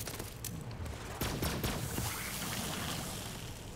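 Gunfire from the Sleeping Giant weapon in Borderlands 3, a dense run of rapid shots and impacts blending into a loud, busy wash of game action.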